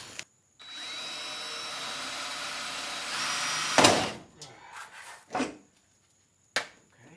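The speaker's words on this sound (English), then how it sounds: "Time to remove some rivets." A power tool drills out rivets from a panel on a 2006 Fleetwood Niagara pop-up camper: a steady high whine holds for about three seconds, then breaks into a loud burst and several short, separate spurts.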